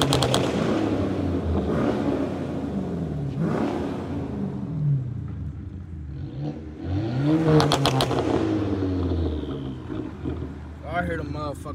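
A Dodge Challenger R/T in traffic at night, its engine revving hard and falling repeatedly, with rising and falling tones over a constant road roar and someone talking over it.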